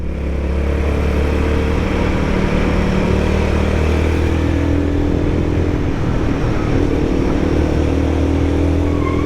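A Royal Enfield Guerrilla 450 motorcycle engine pulls steadily in third gear on a climbing mountain road, with a loud, continuous low drone and constant wind rush close to the microphone.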